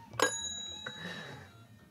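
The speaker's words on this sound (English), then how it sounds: "Why did you ring the bell?" A single bright bell ring strikes sharply and rings out with a long shimmering decay, followed by a faint second tap, with no voices.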